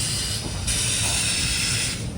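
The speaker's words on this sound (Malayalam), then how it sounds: "തിരുവനന്തപുരം സെൻട്രലിൽ നിന്ന് ഇതാ ട്രെയിൻ എടുത്തു. ഇത് മംഗളൂരു തിരുവനന്തപുരം മാവേലി." Broad steady hiss and low rumble of the Mangaluru–Thiruvananthapuram Maveli Express pulling out of Thiruvananthapuram Central station, continuous and fairly close, with no talk.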